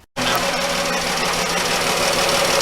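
A 2011 Dodge Journey engine running with a misfire in cylinder 5, a steady close idle with an uneven, knocking pulse throughout, no talk.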